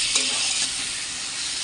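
Yam curry simmering in a pan with its oil separated, giving a steady bubbling sizzle and hiss throughout while it is stirred, with a few brief scraping accents.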